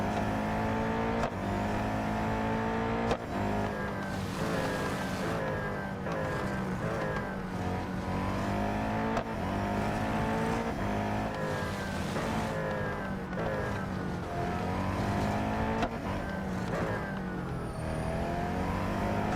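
Race car engine in the mobile racing game Real Racing 3, roaring continuously with repeated rising and falling revs through gear changes, loud and steady throughout with no talk.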